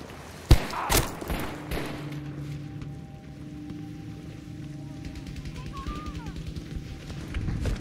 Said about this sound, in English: I see a hostile with a machine gun!